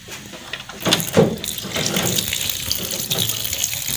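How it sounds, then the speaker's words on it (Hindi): Cold tap water running steadily from a faucet over boiled spaghetti in a kitchen sink or strainer, a continuous close splashing stream with brief louder gushes. "ठंडा पानी इनके ऊपर गिरा देंगे तो ये बिल्कुल जुड़ेंगे नहीं।"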